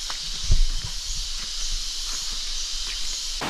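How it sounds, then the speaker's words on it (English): Loud remote Palawan jungle ambience: a dense, steady high hiss like insects fills the air, with a few soft thumps like footsteps underneath and no talking. "The jungle is so loud."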